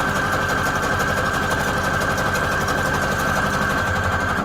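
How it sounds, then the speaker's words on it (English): Sewing machine running fast while stitching scrap paper strips for junk journal tabs, a loud close steady buzzing whir that holds unbroken throughout. "Let's just keep sewing."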